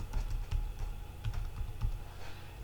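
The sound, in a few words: typing on a computer keyboard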